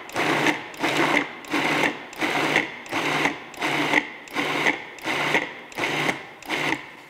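A food processor pulses chickpeas into a coarse, crumbly falafel mix, giving about nine short, evenly spaced whirring bursts with brief gaps between them, close and moderately loud.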